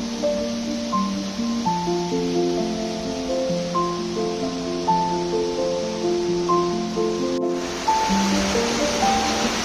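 Water flowing steadily near Gowrishankar Kona waterfall by Venkatagiri, close to Tirupati: a constant broadband rush heard under a melodic background tune, with no one speaking.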